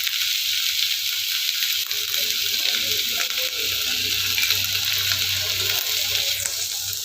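Onions sizzle in a hot pan for tomato chutney, a steady close hiss and crackle that continues evenly for several seconds, with a faint low hum underneath and no clear talk.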